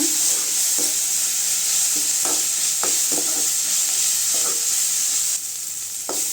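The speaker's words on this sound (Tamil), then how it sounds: "தக்காளி நல்லா வதங்கிட்டுங்க" Tomatoes sauté with a little salt in a pan for a Tamil egg fry, sizzling steadily and close, with occasional spatula scrapes and stirring clicks and no voices.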